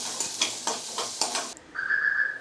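Green turkey berries (sundakkai) stirred with salt in a pan make a quick series of rhythmic scraping strokes over a soft sizzle, then a brief thin whistling tone.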